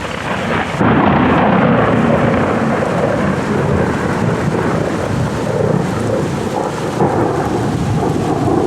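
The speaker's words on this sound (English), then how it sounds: "the storms arrived, and they were massive storms, part of the tail end of the hurricane" Thunder rumbles and heavy rain pounds down at Dale Hollow as a massive storm from the tail end of a hurricane hits, loud and continuous, swelling sharply about a second in and roaring on without voices.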